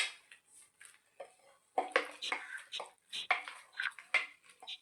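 Jackfruit curry is stirred in a pot, making quiet, close scraping and clinking sounds in quick, irregular strokes.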